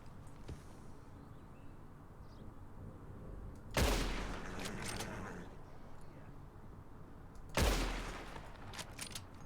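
Gunfire in Red Dead Redemption 2: two loud, sharp shots about four seconds apart, each with a long echoing tail, over a steady outdoor ambience while players talk.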